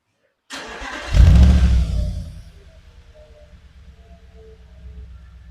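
Audi S5 4.2 V8 with its exhaust before the back boxes are fitted starts up and revs hard in one deep, loud, close burst, then settles into a rumbling idle.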